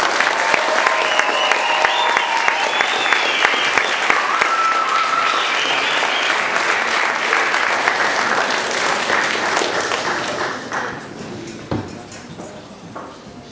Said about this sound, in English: bring the fifth ward on with a big round of applause